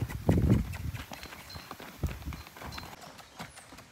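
A loose stallion moving about on a farm, hooves clip-clopping in uneven steps, loudest at first and then lighter, scattered footfalls.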